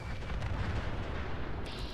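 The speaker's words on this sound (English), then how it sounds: "Let's go take on Swan now. Righto, we'll take on Swan with the MIRV Dart and see how we go" A MIRV Dart mod fired from the Fat Man launcher in Fallout 4 explodes at long range, producing a sustained rumbling blast with a heavy low roar throughout and a brighter hiss rising near the end.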